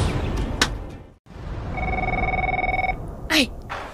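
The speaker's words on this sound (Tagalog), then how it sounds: "Nagkiriring ang telepono." A steady electronic telephone ring sounds once for about a second, ringing over a busy background with voices before and after.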